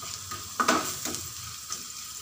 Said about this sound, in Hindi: तो लहसुन को हम अच्छे से चलाते हुए ब्राउन कर लेंगे।